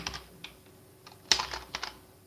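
Keystrokes on a computer keyboard, a few scattered clicks with one sharper tap in the middle, close and fairly quiet with no talking.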